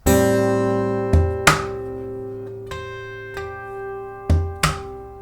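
A strummed acoustic guitar chord rings out while sharp percussive taps and thumps hit the body in a steady groove, thumb bass-kick and finger snare hits, close and alone.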